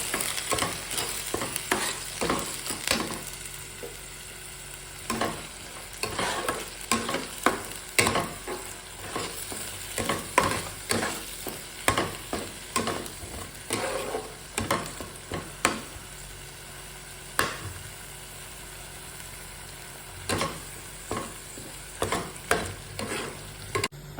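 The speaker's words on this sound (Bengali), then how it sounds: "আর এখানে আমার পেঁয়াজ বাটা আছে এটা দিয়ে দেব ভালো করে কষিয়ে নিই" Onion paste is sautéed in a pan, with repeated rhythmic spatula strokes scraping and knocking through a quiet, steady sizzle for the whole stretch.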